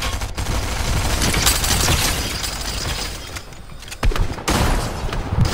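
Rapid gunfire from Fortnite gameplay crackles in dense, loud bursts, with sharp shots and impacts layered over a busy game soundscape and a brief pause before the firing resumes.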